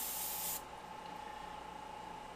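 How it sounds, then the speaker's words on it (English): An airbrush spraying paint, a short, sharp hiss lasting about half a second, then a much quieter, steady background. "So watch, I'm going to spray a little paint."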